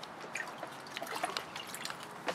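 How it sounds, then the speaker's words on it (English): Water trickling and dripping back into a container in a soil-free indoor growing system, a faint steady patter of drops and light flow with no talk. "And then the water just drains back into this container."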